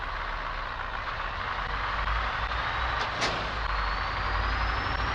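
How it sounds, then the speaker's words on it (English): Heavy cargo truck in a driving game hauling an oversized 58 m blade at night, a deep continuous engine drone with a rising turbo whistle and a brief hiss of air, steady and close. "the sounds of the turbos in this game are amazing"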